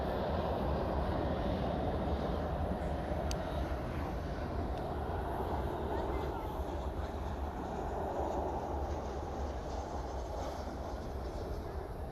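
Airplane arriving at DFW Airport from Santa Ana at night, a steady broad engine rumble held throughout, moderately loud and fairly distant, with no talk over it.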